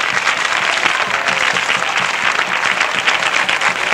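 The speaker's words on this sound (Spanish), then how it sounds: "Y un fuerte aplauso para Manuela, hombre." Loud, continuous applause from a large crowd at a romería pilgrimage festival with sevillanas, dense clapping sustained throughout without a break.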